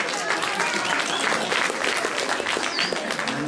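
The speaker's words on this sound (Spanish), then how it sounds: "un aplauso para ella." An audience applauds a school director at a Mother's Day celebration, with dense, steady clapping that fills the whole stretch, loud and close, with a faint voice mixed in.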